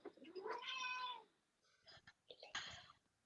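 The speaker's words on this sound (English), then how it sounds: "She has her own meow sounds." A pet cat gives a clear, drawn-out meow up close, followed by a few shorter, softer mews and a second bright meow near the end.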